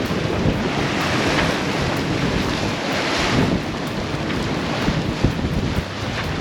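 Strong wind and rushing waves aboard a sailing boat under sail in a crosswind, a loud, steady roar of wind against the microphone over continuous wash of water for several seconds, with no talk.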